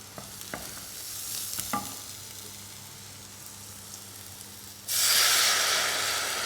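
Food with wine is stirred in a hot pan, starting as quiet scraping with a few sharp utensil taps, then a loud burst of sizzling hiss takes over near the end.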